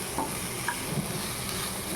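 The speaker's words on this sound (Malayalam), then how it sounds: "ബ്രോക്ക്ലി അതിലേക്കിട്ട് നല്ലതായിട്ടൊന്ന് ഇളക്കി കൊടുക്കുക" Broccoli and coconut stirred in hot oil in a pan, a steady sizzling hiss with a few soft scrapes of the spoon, alone and close.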